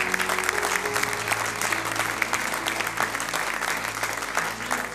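A church congregation claps in a steady, dense wash of applause lasting several seconds, loud and close, with faint murmuring voices underneath.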